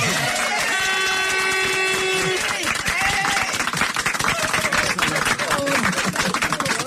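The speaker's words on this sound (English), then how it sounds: "one more big round of applause" A big round of applause from a crowd at a live radio event for kids in Limerick, dense clapping swelling and continuing steadily, loud and close, with cheering voices mixed in.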